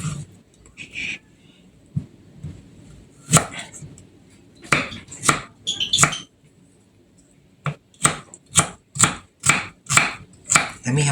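Knife chopping ginger on a cutting board for kilawin, sharp close knocks coming in scattered bursts, then a steady run of evenly spaced chops.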